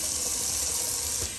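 A kitchen tap runs cold water for a quick rinse during a shave, a steady, loud hiss of flowing water that continues without pause and eases slightly near the end.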